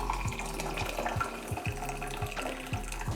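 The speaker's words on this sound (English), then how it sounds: "And then I'm going to top that up with boiling water." Boiling water pours steadily into a vessel close by, a continuous splashing stream with faint clinks, no talking.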